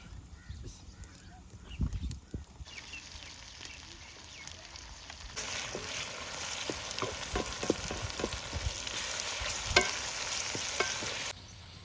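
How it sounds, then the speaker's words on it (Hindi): Tomatoes and onions cook in a pan, softening with a faint, steady sizzle and intermittent stirring knocks that grow louder partway through, with no talking. "टमाटर को भी नरम होने तक पका लिया।"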